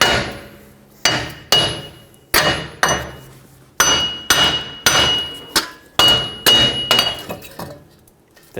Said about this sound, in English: It broke free, so let's hammer the other way.